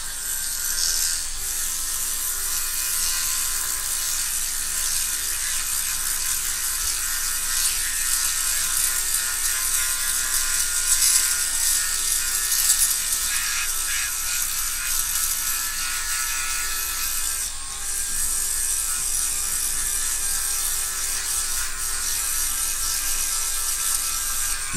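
A Dremel rotary tool runs steadily throughout, used to strip material during a custom restoration of a Dinky 106 Thunderbird 2 die-cast model, a continuous high-pitched whine with a slight dip near the end.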